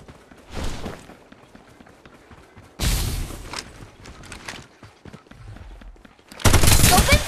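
Gunfire in the battle royale game Farlight 84 comes in bursts: a short volley early, a longer rattling automatic stretch in the middle with thuds and footsteps, then a loud sustained burst at the end, with quiet gaps between.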